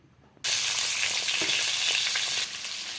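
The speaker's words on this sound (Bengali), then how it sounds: "আলুগুলো একটু কষিয়ে নেব" A sudden loud sizzle erupts as potatoes hit hot oil for a small-fish curry, continuing as a dense, steady frying hiss that eases slightly toward the end.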